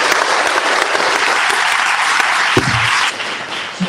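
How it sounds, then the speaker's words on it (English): A community college audience gives a loud, sustained round of applause during a visit from the First Lady. The clapping is dense and even and thins out slightly near the end, with a brief low thump. "Please give them a round of applause."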